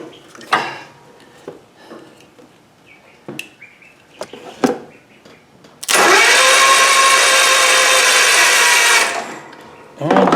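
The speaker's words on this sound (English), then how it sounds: "Just see if the starter spins." The starter motor of a Cub Cadet zero turn mower, jumped straight from the battery, whirs loudly for about three seconds after some clicks and handling noises, then cuts off.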